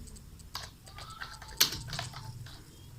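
Someone typing model text on a computer keyboard in Revit, giving a sparse run of quiet, close key taps with one sharper keystroke partway through, no voices.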